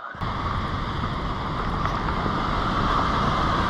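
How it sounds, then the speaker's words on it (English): A double waterfall along the Superior Hiking Trail gives a constant broad rushing roar that starts abruptly and stays loud and steady, with no voices. "Double waterfall."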